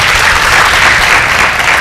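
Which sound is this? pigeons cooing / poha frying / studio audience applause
studio audience applause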